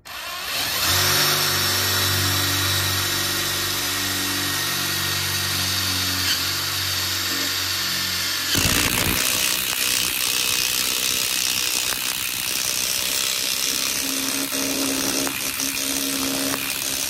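A Ryobi One+ cordless 3/8 impact wrench, fitted with a chrome socket, runs loud and close with a steady mechanical drone. Midway it shifts abruptly to a harsher, rattling hammering tone that continues to the end.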